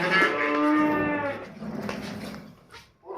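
A dairy heifer on a Punjab village farm gives one long, loud, close moo that trails into fainter lowing, with a short bleat-like call at the end.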